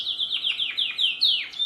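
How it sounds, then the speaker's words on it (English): A canary sings a quick series of bright descending whistled notes, repeated in a fast, clean run close to the listener with nothing else around. "Canaries can sing."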